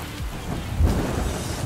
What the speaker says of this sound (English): you just want to make it rain